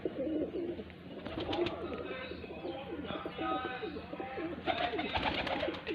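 Pigeons cooing in a loft, soft repeated throaty coos overlapping from several birds at close range, with faint chirps and quiet human voices in the background.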